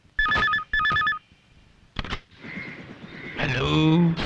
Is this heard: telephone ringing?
yes